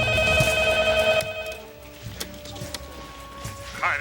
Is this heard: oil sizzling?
no